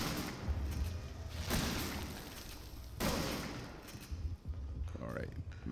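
Shotgun blasts in Resident Evil 7 land as a few loud broadband bursts, one near the start and another around three seconds, over a dense, rumbling game soundscape with talk.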